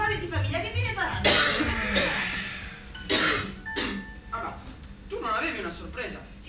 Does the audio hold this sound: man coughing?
yes